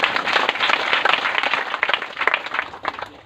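A church congregation claps loudly at a Hindi-language worship service in dense, continuous applause that holds steady for a few seconds, with no voices on top.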